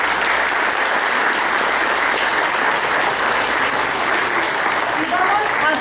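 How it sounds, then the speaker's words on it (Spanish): Parents at a kindergarten Catrina costume parade give the costumed children a loud, sustained round of applause that fills the whole stretch without letup. "vamos a darnos un fuerte aplauso a todos los pequeñitos que vienen hoy caracterizados"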